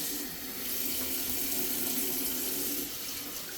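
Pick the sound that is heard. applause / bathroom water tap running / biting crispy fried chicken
bathroom water tap running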